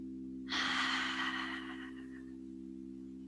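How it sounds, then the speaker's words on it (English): A single deep exhale through the mouth during a yoga session, a soft breathy rush that fades out over about two seconds against a low steady hum, with no talk. "Big exhales to your mouth"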